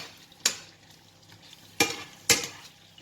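Potatoes frying in oil for a tortilla, stirred in a pan: a low steady sizzle broken by three sharp scraping stirs, close and fairly loud, with no talking.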